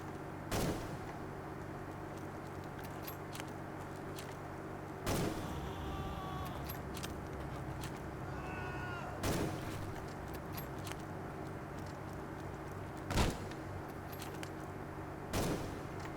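Gunfire in the WWI video game Conscript: five sharp, isolated shots spaced several seconds apart, standing out over a low, steady background hum.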